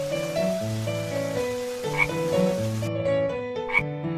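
A frog croaks in a storybook setting, with repeated tonal calls running steadily through the whole stretch alongside musical tones, fairly loud and with no voices.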